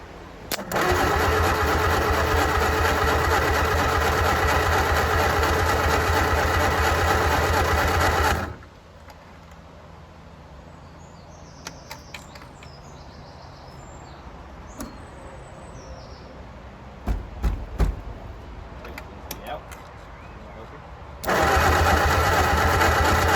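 A 1959 Reliant Regal Mk5, idle for over 20 years, cranks and catches with a loud, buzzy running engine for about eight seconds. It cuts to quiet with clicks and handling noises, then fires up again near the end.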